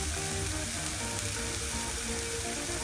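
Carrots and capsicum frying in a pan, a steady, even sizzle with soft crackle, close and continuous, over a brief moment.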